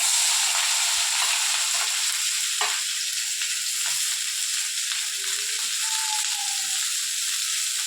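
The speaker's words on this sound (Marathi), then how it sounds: "आणि आता कढीपत्ता टाकते. लगेच त्याच्यामध्ये कांदाही टाकून देते." Curry leaves and onion fry in hot oil in a home kitchen, giving a steady, close sizzle that runs the whole time with a few soft stirring knocks and no voices.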